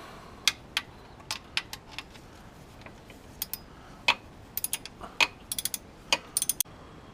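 Ratchet clicking on the starter bolts of a 2005 Kia Sedona, heard as scattered bursts of short, sharp ticks with pauses between, moderately close and fairly quiet, with no talking.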